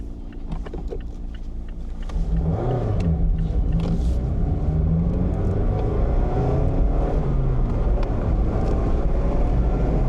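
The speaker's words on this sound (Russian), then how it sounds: "Можете оценить шум в салоне." Cabin noise inside a 2025 Mazda MX-5 Miata on the move: steady road and wind roar with low engine drone that grows louder after the first couple of seconds and stays constant.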